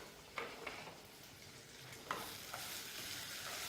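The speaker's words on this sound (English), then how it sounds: "So add your rice, and then we're going to stir it." Rice stirred in hot oil with mustard seeds while preparing lemon-cashew rice, sizzling steadily with a few sharp scraping strokes of the spoon against the pan, close and fairly quiet, with no talking.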